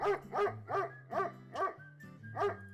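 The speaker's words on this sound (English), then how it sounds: "There's a dog barking." Dog barks about seven times at a steady rhythm, moderately close and fairly quiet, over a low steady hum with no talking.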